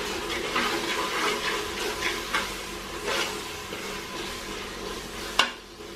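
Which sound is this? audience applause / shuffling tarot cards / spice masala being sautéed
spice masala being sautéed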